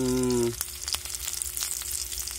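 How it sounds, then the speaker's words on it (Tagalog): Bamboo shoots frying for a Filipino adobo, a steady broadband sizzle close by that follows a brief tonal hum at the start, with soft stirring scrapes and crackles throughout. "And then you just fry it."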